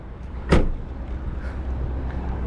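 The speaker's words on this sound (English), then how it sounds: "pop the bonnet" The bonnet of a Holden HSV VS Manta with a 185 kW 5-litre engine is released: one sharp, close clunk, followed by a quiet hum.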